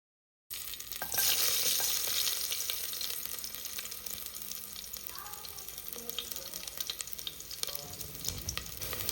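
Mustard and garlic frying in coconut oil in a cooker, a sharp sizzling burst after a moment of silence that settles into a steady crackling fry with occasional stirring scrapes.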